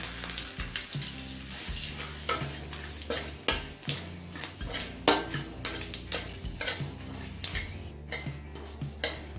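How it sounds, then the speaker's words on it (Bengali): Panch phoron and two bay leaves fry in hot oil in a pan for a cabbage dish, under a soft, steady sizzle broken by frequent metallic clinks and clatters of a spoon against the pan. "এই তেলেই ফোড়নে দিচ্ছি এক চামচ পাঁচ ফোড়ন আমি পাঁচ ফোড়ন দিচ্ছি আপনাদের কাছে জিরেও দিতে পারেন আর দুটো তেজপাতা"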